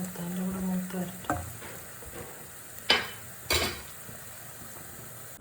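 Oil in a pan frying with green chillies as cauliflower pakoda cooks, a soft steady sizzle with a few sharp utensil knocks and scrapes, close and moderately quiet.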